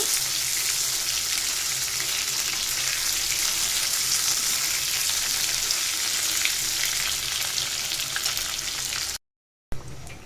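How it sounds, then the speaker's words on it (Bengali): Oil sizzles and crackles steadily and loudly as eggplant fritters fry, a dense continuous hiss with a brief cut near the end. "এদিক দিয়ে যে বেগুনি ভাজা শুরু করছি"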